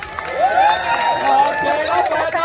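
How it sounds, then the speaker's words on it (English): Crowd at the African Lion Safari in Hamilton, Ontario, cheering for the vultures team at a race, a continuous mix of voices and shouts with whistling tones rising above the babble throughout. "who's cheering for the vultures?"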